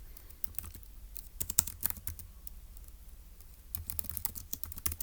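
Notes are typed on a computer keyboard in quick, uneven bursts of soft, close key clicks, with a quieter pause in the middle before the typing resumes; no one speaks.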